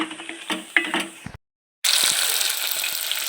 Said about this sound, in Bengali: কাঁচকলা আর আলু ভাজা বসিয়ে দিয়েছি